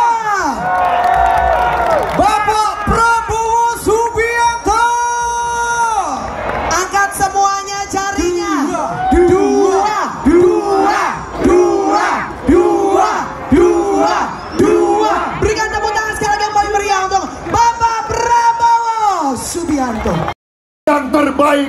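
A large outdoor rally crowd at Simpang Lima, Semarang, roars and cheers for an Indonesian presidential candidate, a dense, sustained wall of shouting with chanting voices throughout, briefly cutting out near the end.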